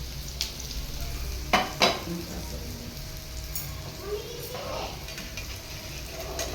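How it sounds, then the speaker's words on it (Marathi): Spinach fritters frying in oil over a low flame, a continuous soft sizzle broken by a couple of sharp clatters of a utensil against the pan, with no talking. "अशा कमी गॅसवर तळून घ्यायच्या सगळ्या"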